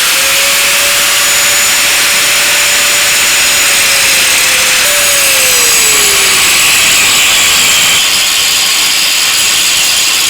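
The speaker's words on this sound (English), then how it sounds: "I've only got a grinding disc. I would have preferred a cutting disc because it's thinner and it would have cut these rivets a lot easier" An angle grinder fitted with a grinding disc, not a thinner cutting disc, cuts through rivets on a Mercedes Vito front ball joint, a loud, steady, close-up roar with a high whine that dips in pitch partway through.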